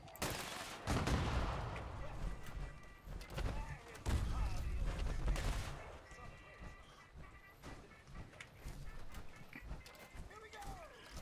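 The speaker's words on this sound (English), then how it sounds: "Nothing like the two-shot auto grenade launcher." Two-shot auto grenade launcher fired in Fallout 76, with loud bursts of gunfire-like blasts and booms in quick clusters near the start and middle, then scattered fainter impacts and game noise.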